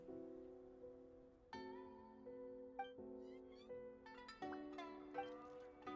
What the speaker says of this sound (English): This one is a cat named Neko.